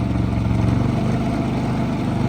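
A generator engine runs steadily at a raised idle while charging an off-grid cabin's solar power system, giving a loud, continuous low drone close by without pauses or voices.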